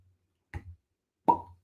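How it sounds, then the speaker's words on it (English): A cork pulled from a new bottle of bourbon gives two sharp, close pops about three-quarters of a second apart, and the second is louder and fuller than the first. No other sound is heard. "That's a good cork pop."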